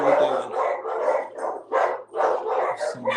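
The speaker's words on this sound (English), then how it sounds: "that's why the dogs are going ballistic" Several dogs at an animal shelter bark and yip in quick, loud bursts, reacting to someone standing out front, with a few whimpering tones between the barks and no talk.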